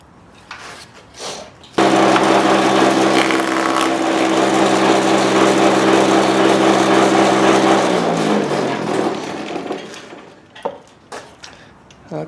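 A table saw cutting a bead into the edge of wood molding: a few clicks, then the blade bursts into a loud steady whine for about eight seconds before winding down, followed by scattered knocks and handling sounds.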